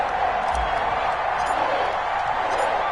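A stadium crowd roars in an NFL video game at the Baltimore Ravens versus Cincinnati Bengals matchup, a steady, dense wash of distant cheering that holds constant throughout.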